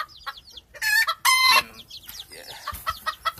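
An Old English Game rooster crows loudly and nearby in a backyard flock, with a few softer clucks from the chickens before and after the call.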